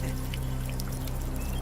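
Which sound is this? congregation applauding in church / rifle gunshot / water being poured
water being poured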